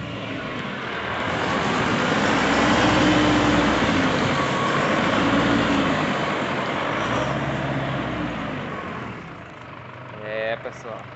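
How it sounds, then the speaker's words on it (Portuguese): Chevrolet S10 diesel 4x4 pickup with the MWM 2.8 engine driving through mud off-road, a steady loud engine drone swelling and easing with wheel spin, people talking over it throughout. "Um ralizinho aqui que eu gosto de brincar com a caminhonete"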